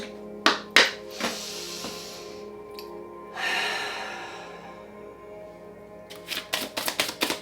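Tarot cards being shuffled by hand, with sharp riffle bursts near the start, a longer soft swish in the middle and a quick run of crisp snaps at the end, close and alone.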